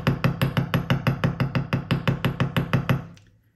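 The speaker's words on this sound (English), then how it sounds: "just gently hammer." Copper wire being hammered gently with a domed hammer for skull wire-wrap earrings: about fifteen quick, evenly spaced light metallic taps in a steady rhythm, close and clear, ending with a brief fade.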